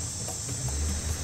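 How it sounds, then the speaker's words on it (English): Amazon jungle insects chirp in a dense, steady high-pitched drone, with a low rumble underneath and no voices. "the sound of the Amazon insects gets louder"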